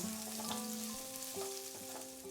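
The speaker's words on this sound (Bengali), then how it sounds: "আমি 2 মিনিট মতো পেঁয়াজটাকে মিডিয়াম আঁচে ফ্রাই করব।" Two medium onions, chopped, fry in a pan over medium heat, giving a steady close sizzle with a few soft tonal hums running underneath, no voices.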